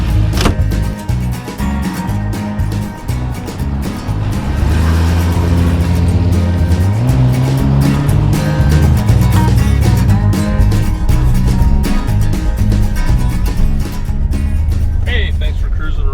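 A 1982 Ferrari 400i with a V12 engine and CIS fuel injection, heard up close: a loud, deep idle swells into a rising rev that holds and then settles. A person talks over the engine throughout.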